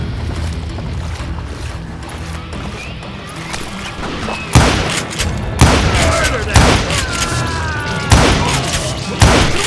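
A volley of gunfire crashes down in the Western shooter Call of Juarez: Gunslinger. Several loud, sharp shots and impacts land irregularly over the last half, with ringing echoes, after a quieter stretch of ambient game sound.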